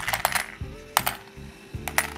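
Soviet-era coins, including 1950s kopecks, clink and rattle as they are handled and dropped together, giving several sharp metallic jingles close by in irregular bursts.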